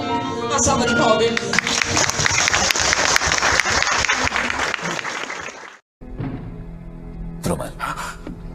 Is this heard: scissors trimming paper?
no